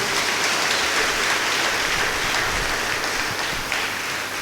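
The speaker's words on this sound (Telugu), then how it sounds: "అందరూ గట్టిగా చప్పట్లు కొట్టి" An audience at a church ceremony in a bishop's house claps loudly and steadily, a dense, close wall of applause that holds without a break and with no talking.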